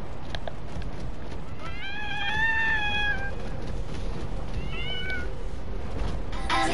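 A cat meows twice indoors, a longer drawn-out call followed by a shorter one, close and clear over faint room noise.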